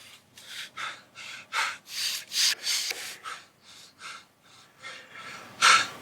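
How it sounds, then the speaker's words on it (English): Heavy breathing of a professional wrestler, a run of loud gasping breaths and sharp exhales in an uneven rhythm, close up with no talk, the last breath the strongest. "And now, the heavy breathing"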